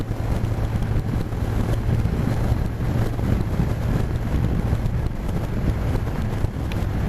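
Steady, loud wind roar buffets the microphone on a motorcycle ride, a dense broadband rush with a low engine hum beneath, continuous and without speech.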